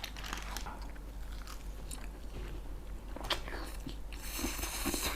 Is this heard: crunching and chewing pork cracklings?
yes